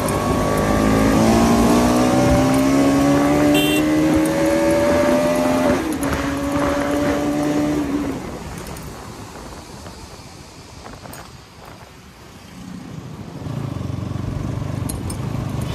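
A brand new Bajaj Pulsar NS200 motorcycle, out on a morning ride, revs up through the gears with rising engine whines, then settles into a quieter cruise under wind rush before accelerating again.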